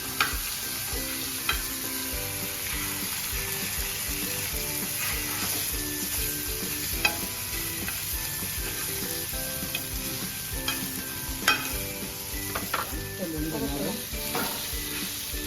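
Bombay duck (bombil) fish frying on low gas, a steady close sizzle and crackle running throughout with occasional louder pops and the scrape of stirring, no voices.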